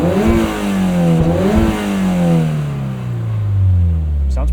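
A 2023 Toyota GR86 Premium with six-speed manual and GR Performance dual exhaust revs up, then its engine note falls away, loud and close, ending with a faint clack.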